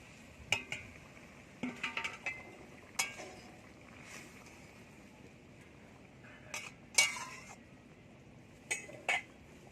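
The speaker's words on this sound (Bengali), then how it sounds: "ভেজে রাখা মাছগুলো দিয়ে দেবো" Fried fish pieces go into a boiling fish dopeyaja curry and are stirred, with scattered quiet clinks and scrapes of a spoon against the pot over a soft background.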